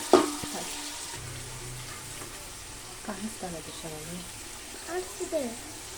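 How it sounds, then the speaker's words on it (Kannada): Onions and bay leaf fry in a pan with a steady, close sizzle and occasional stirring scrapes, while a voice murmurs faintly in the background. "ಪಲಾವ್ ಎಲೆ ಆದಮೇಲೆ ಈರುಳ್ಳಿ ಹಾಕಿ ಇದು ಸ್ವಲ್ಪ ಕೆಂಪಗಾಗಬೇಕು, ಅಲ್ಲಿವರೆಗೂ ಫ್ರೈ ಮಾಡಬೇಕು"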